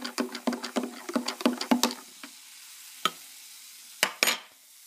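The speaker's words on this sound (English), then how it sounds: "I'm gonna stir it" A spoon stirring a glass of Mountain Dew Voltage mixed with Pepsi, a quick run of close, rhythmic clinks against the glass, then a few isolated taps after a pause.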